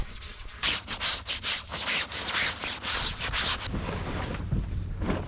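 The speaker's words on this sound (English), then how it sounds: "I gave the Genoa a good scrub." A Genoa sail from a sailboat is scrubbed by hand, giving a close, steady series of rough rubbing and brushing strokes in a quick rhythm that fades into softer wind-like noise.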